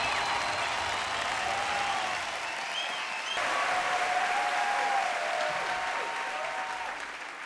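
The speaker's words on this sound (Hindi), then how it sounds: "जोरदार ताली हो रश्मि देसाई जी के लिए" Loud, sustained applause from a large audience at a Bhojpuri film awards show in Malaysia, a dense steady wash of clapping that dips slightly near the middle and then carries on, with faint tonal music-like lines running underneath.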